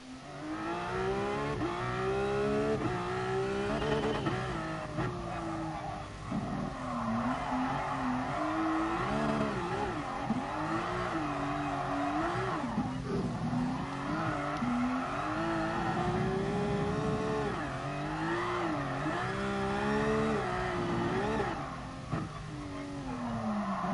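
A race car engine in Gran Turismo Sport drifting on the Nordschleife, revving hard and continuously with rising and falling pitch through slides, loud and steady throughout with occasional tire squeal.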